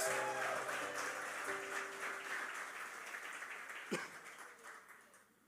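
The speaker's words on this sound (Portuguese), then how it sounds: "você pode aplaudir o Senhor?" A church congregation applauds during a sermon, soft sustained clapping with a held tone underneath at first, one sharper accent near the end, fairly distant and quiet.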